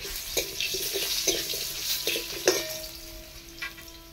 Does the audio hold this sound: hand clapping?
no